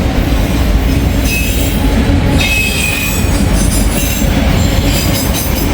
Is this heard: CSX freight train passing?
yes